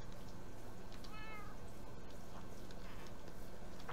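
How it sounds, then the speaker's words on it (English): A cat in the video game Minecraft gives a single short, faint meow partway through. It sits over steady background game noise. "There's another cat over here I completely forgot about."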